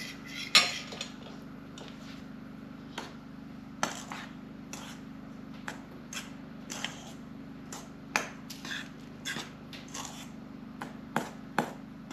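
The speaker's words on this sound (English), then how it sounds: "then I'll give the flour a little bit of a stir" A utensil stirs a flour mixture for camp donuts, giving a scattered run of sharp metallic clinks and taps against the bowl over a low steady hum.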